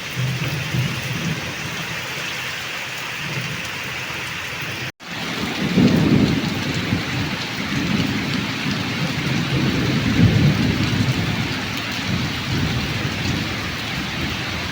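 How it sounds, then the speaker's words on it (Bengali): Heavy rain pours steadily on a rural pond and slender areca palms while loud rolling thunder rumbles repeatedly through the downpour, swelling near the middle and end; no voices. "এখানে থাকা যাবে না খুব জোরে জোরে মেঘ ডাকছে"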